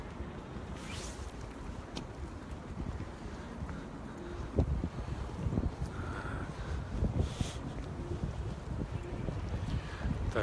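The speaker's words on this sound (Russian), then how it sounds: "потому что на улице довольно-таки прохладный ветер" Cool wind gusts steadily into an outdoor microphone, a continuous low rumbling buffet that swells slightly louder in the second half with occasional rustling bumps.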